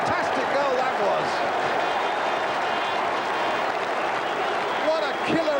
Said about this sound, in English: Applause from Kenny Dalglish.